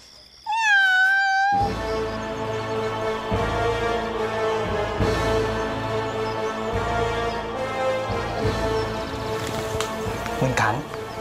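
A cat gives one short, clear meow right at the start, then dramatic music and speech take over the rest of the scene from a Thai period television drama.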